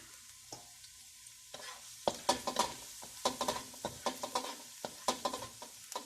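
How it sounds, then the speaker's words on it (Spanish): Garlic fries in fat in a pan for a Chinese-style cabbage and chicken dish. A steady sizzle runs under repeated close scraping and clinking of a utensil stirring against the pan, with no talk. "Por aquí vamos a poner el ajo. Guisamos un poquito."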